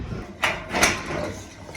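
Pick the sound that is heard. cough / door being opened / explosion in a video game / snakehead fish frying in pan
door being opened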